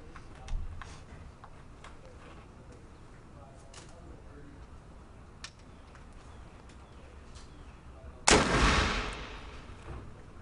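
A percussion cap musket fires one loud, sharp shot late in a Marine Corps weapons demonstration, following a quieter stretch with a faint earlier thump and low background noise.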